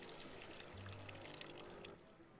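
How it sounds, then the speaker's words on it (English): Water pouring from a coffee machine in the video game Assemble with Care, a steady soft stream lasting about two seconds before it cuts off, with no talking. "Okay, so water's coming out of there, which is right."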